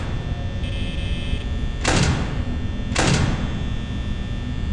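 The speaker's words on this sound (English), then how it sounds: "I want to shut my door." A door slides shut twice in the Five Nights at Freddy's horror game, two short whooshing thuds about a second apart over a steady electronic hum.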